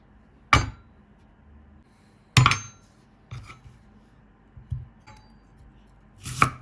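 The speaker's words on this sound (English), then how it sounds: "Take 3 medium onions. Let's chop them." A knife strikes a cutting board as three medium onions are chopped, giving about five or six sharp, separate knocks at an irregular, unhurried pace, with quiet pauses between them.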